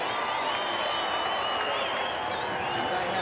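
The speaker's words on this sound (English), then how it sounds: "And they have got some tremendous support here." A large rugby league stadium crowd at a 1991 Winfield Cup playoff between Western Suburbs Magpies and Canterbury, a steady, dense roar of cheering and whooping from many voices, continuous and fairly distant.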